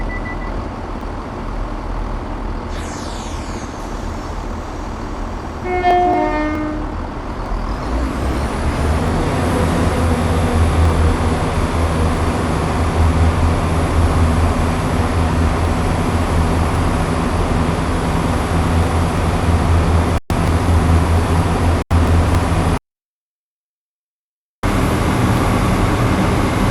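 Class 170 diesel multiple unit engine thrashing in a train simulator game on the Lickey Incline, a steady loud droning roar building after a few seconds and holding on, with brief cut-outs near the end.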